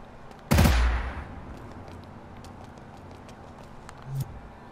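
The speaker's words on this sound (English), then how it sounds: "if I shoot anywhere else, he's probably getting hurt" A single sharp, loud gunshot from a first-person shooter built in Dreams on PS4 cracks early and decays quickly, followed by quiet room tone and a faint thump near the end.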